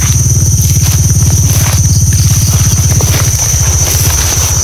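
A motorcycle engine runs very close and loud with a rapid, steady low putter and a thin high whine on top, holding constant throughout.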